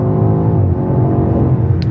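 A 2021 BMW X6M Competition engine pulls hard under acceleration, a loud, continuous low roar heard from inside the car with no talk.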